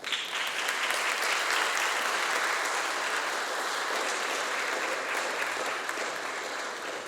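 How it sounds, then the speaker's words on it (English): Audience applause fills the hall at the 2025 Yale joint commissioning ceremony, a dense, loud, sustained clapping from a large seated crowd of friends and families, continuing evenly without speech. "find your friends and family in the audience and give them a big round of applause"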